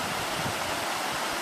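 Steady broadband rush of a mountain stream, a continuous close flow pouring with no breaks.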